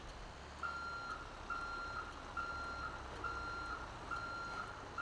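A truck's reversing alarm in GTA V beeps in steady evenly spaced pulses, six clear tones over a low engine hum.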